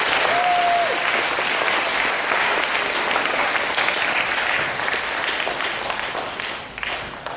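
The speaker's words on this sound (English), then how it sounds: "Clap if you can say that." Audience applause fills a school assembly during an anti-bullying talk, a steady dense clapping from a large crowd that holds loud and even for about seven seconds before tapering slightly at the end.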